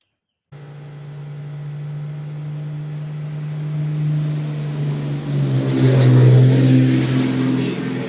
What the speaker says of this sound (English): that truck was loud